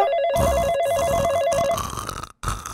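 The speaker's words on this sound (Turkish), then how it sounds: "Uzun yıllar sonra ilk defa telefon çalıyor." A telephone rings in the video game Minecraft, a loud warbling electronic ring repeating in fast bursts for nearly two seconds, then a brief silence before other game sounds resume.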